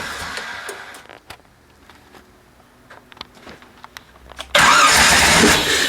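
A 1966 Corvette with a new ZZ4 350 engine cranks with a starter whirring and sputtering in rhythmic bursts, then catches into a loud, rough, steady running roar near the end.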